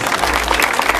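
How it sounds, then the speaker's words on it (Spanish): Applause at a Jujuy carnival celebration, a brief dense burst of many hands clapping from a crowd nearby. "Fuerte los aplausos."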